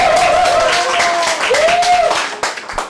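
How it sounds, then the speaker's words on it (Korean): An audience at a humanities lecture series applauds a guest psychology lecturer, a steady wash of clapping with a whistle-like tone rising over it and a few louder nearby claps as it tapers off. "이럴 때 박수 한번 주시는 거죠"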